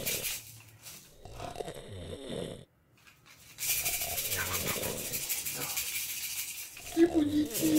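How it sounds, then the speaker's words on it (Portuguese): Someone snoring softly while a baby rattle is shaken nearby for ASMR, a low wheezy breathing sound with hissy shaking textures over about eight seconds and a brief quiet gap near the middle. "tá roncando"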